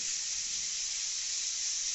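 Chicken pieces fry in a pan for chilli chicken, producing a continuous even hiss of hot oil, close and unbroken throughout.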